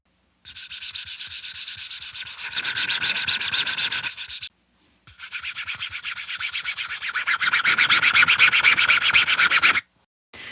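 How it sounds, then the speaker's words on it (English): Fingers rubbing back and forth over the textured face of a Ronbus pickleball paddle, two close, continuous scraping passes that grow louder midway, each separated by a short silence. "when you run your fingers over the R3, it feels much smoother than the R1"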